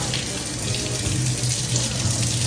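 Water runs steadily from a tap for rinsing hair, a continuous close, loud rush with no break and no talk over it.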